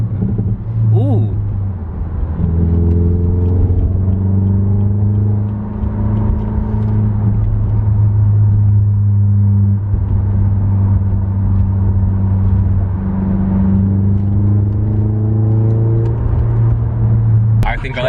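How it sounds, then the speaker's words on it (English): An Alfa Dually's exhaust rumbles at a low idle, then revs up and down in several rising and falling sweeps over about eighteen seconds, loud and close, with brief speech at the start. "I'm not gonna lie, it sounds really good. From Alfa Dually, it actually sounds really, really good."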